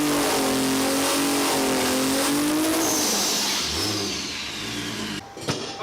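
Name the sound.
Toyota Supra burnout on slicks in garage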